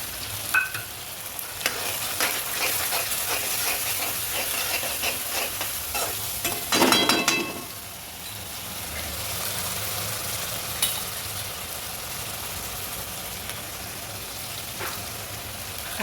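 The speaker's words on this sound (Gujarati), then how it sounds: "આ વાટેલી પેસ્ટ છે એને પણ આ સાતળવામાં નાખી દઈશું" Ground red chili and garlic paste sautés in hot oil in a pan for mung bean pulao, a steady loud sizzle with stirring scrapes and a brief surge of hissing midway.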